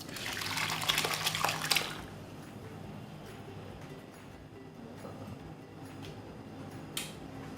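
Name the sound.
straining curdled milk, water draining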